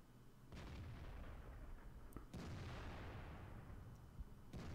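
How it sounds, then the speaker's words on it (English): An artillery gun fires in the World of Tanks video game, a deep booming blast that rolls out into a long rumbling tail, then a second sharp crack and rumble, with another brief crack at the very end. "Oscar fires"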